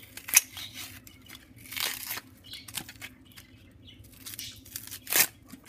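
Dry papery crackles and tearing rustles come in short bursts as the outer skin is peeled off a small onion, close by with quiet gaps between.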